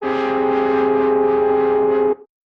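One sustained synthesizer note holds steady for about two seconds with a slightly buzzy, effected tone, then cuts off abruptly. No voices.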